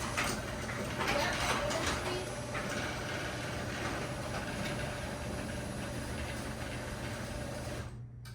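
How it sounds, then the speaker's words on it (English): A Genie screw drive garage door opener with a newly replaced trolley runs steadily, a continuous mechanical hum and grinding rumble that stops abruptly near the end, with some speech faintly present. "Then I'm ready to test my garage door."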